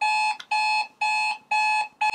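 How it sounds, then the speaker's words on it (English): An electronic alarm clock beeping in a steady, repeating pattern of four bursts with short gaps between them, loud and close. "My alarm now wants to go off."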